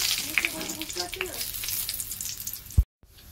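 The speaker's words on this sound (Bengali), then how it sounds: "তেল গরম হয়ে গেছে, আমি দিয়ে দিচ্ছি তেজপাতা, শুকনো লঙ্কা আর গোটা গরম মশলা।" Bay leaf, dried red chilli and whole garam masala crackling in hot oil in a kadai, a close busy sizzle with small pops that ends in a sudden thump and near silence.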